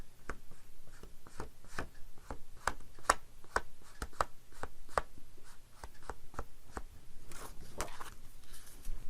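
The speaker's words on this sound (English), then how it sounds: "Inking the paper viciously, but with intention." A pen scratches hard across paper while inking, firm quick strokes in an uneven rhythm, close and fairly quiet, with no voices.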